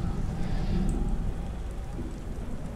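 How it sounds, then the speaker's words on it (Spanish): Steady, dense rain in the video game Beyond: Two Souls falls continuously with a soft low rumble underneath, constant and fairly loud throughout, with no voices. "Dichosa lluvia. A ver cuándo escampa de una vez."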